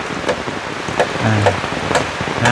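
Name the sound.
rain falling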